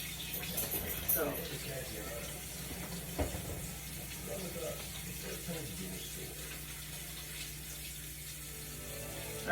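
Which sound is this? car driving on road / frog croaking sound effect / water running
water running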